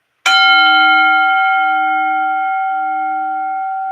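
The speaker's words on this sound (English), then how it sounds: "I'll ring the bell to begin." A singing bowl is struck once like a bell, giving a bright metallic strike that settles into a long, pure, steady ring with layered overtones and a slowly fading sustain, alone in quiet.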